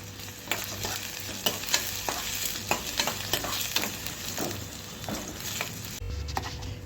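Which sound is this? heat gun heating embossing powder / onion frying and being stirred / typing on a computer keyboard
onion frying and being stirred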